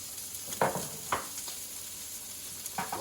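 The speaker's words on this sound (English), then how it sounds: "we're gonna start sauteing, actually the onions first" Onions sautéing in olive oil and butter in a pan, a quiet continuous sizzle with a few sharper scrapes or stirs breaking through, close and alone without talk.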